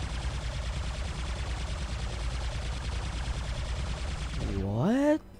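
The Fainter weapon in War Robots fires as a rapid, dense stream of shots for about four and a half seconds, then cuts off abruptly into a rising whine, under a continuous low mechanical rumble.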